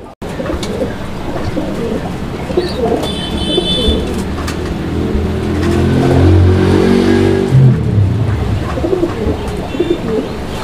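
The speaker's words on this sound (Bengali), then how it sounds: "আপনারা কবুতরের ডাক দেখতেছেন" Pigeons coo low and repeatedly at a pigeon sale, set against a steady wash of outdoor noise and passing engine sounds.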